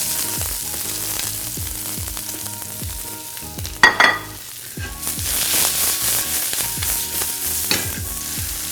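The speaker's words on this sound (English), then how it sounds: "get a pan nice and hot, add some olive oil to it. and in with the onions and garlic" Onions and garlic going into hot olive oil in a pan sizzle steadily, with regular scraping stirs. A sharp burst of loud hissing comes midway, then the frying settles into a fuller, louder crackle, with no talking.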